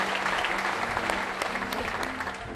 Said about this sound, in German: Applaus nochmal für Edda